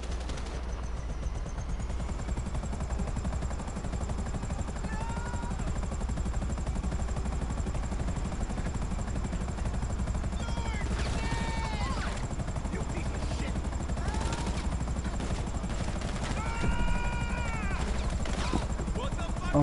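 A helicopter in the GTA video game drones with a steady, loud rotor and engine roar throughout, while bursts of in-game gunfire and whistling effects cut across it toward the end.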